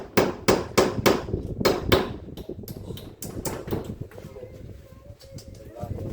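Nails are hammered in while a house door is fitted: a run of sharp, loud, evenly spaced strikes, then lighter irregular taps. Scattered background noise sits underneath.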